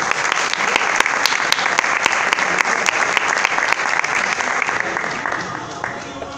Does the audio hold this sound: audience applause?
yes